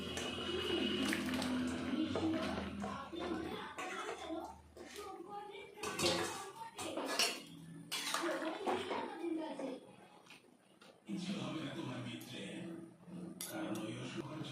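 Chopped eggplant and chillies tumble into a cooking pan for a village-style potato and eggplant curry, with clinks of utensil against metal and soft rustling bursts, interspersed with quieter pauses.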